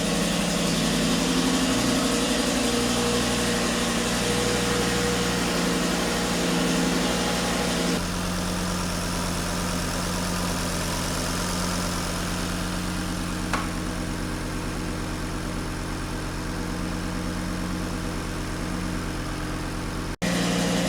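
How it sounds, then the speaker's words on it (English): An Audi RS3 with a Stage 2 build idles with a deep, raspy, steady exhaust rumble close up, shifting slightly in pitch partway through, with no voices. "I like the deep raspiness to it."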